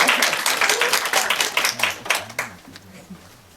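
An audience applauding a lecturer at a Korean seminar, a dense burst of clapping that thins out, with a speaking voice coming in underneath as it fades.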